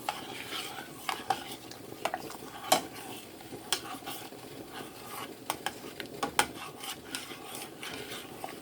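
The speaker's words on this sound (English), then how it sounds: "I'm just gonna mix that up with the macaroni and put some seasoning on it" Beaten eggs are mixed into cooked macaroni in a bowl, a soft wet squelching stir punctuated by repeated light clinks of a utensil against the dish.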